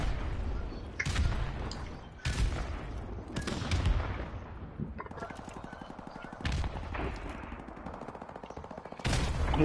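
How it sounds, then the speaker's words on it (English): Grenade launcher rounds and rapid gunfire in a multiplayer shooter video game, with loud repeated bursts and booming impacts, some overlapping and others separated by brief pauses, under faint voices. "you guys are shooting grenade launchers in here"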